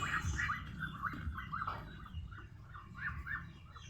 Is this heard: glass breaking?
no